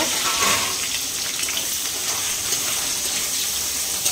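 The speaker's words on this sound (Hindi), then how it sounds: "तेल पूरा गरम हो गलानी, धुआं बाहर देदेली पियाज।" Chopped onions hit smoking-hot mustard oil in a pan, giving a loud, continuous close-up sizzle and crackle that stays steady throughout without any talking.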